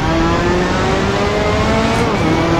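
Race car engine in the Assetto Corsa video game, a loud steady high-pitched drone holding at high revs, with a brief shift in pitch near the end.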